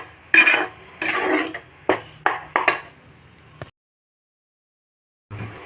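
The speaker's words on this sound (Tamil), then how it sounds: "இது எல்லாத்தையும் நல்லா ஒன்று சேர கிண்டி விடணும்." Thuthuvalai leaf pickle mixture stirred in a metal pan, giving several separate scraping and clinking strokes close by, followed by a pause of near silence and one more soft knock at the end.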